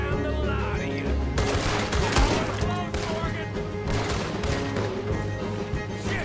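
Gunfire in Red Dead Redemption 2, a dense run of loud, rapid shots cracking over a busy game soundscape, with a voice talking now and then.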